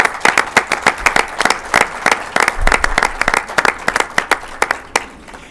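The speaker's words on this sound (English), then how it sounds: "Let's give him a round of applause." Loud applause from a crowd greets a golf championship announcement, with close, distinct hand claps over a fuller wash of clapping that tapers off at the end.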